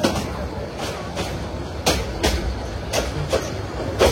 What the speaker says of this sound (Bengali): আমাদের ট্রেনটি এখন ব্রাহ্মণবাড়িয়া রেলওয়ে স্টেশনের 4 নম্বর লাইন থেকে এখন মেন লাইনে প্রবেশ করছে